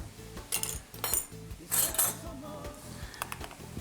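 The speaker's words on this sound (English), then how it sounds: "give it a quick stir" A spoon clinks and scrapes in a bowl as hot sauce is stirred into mayonnaise, quick repeated taps with a low hum underneath.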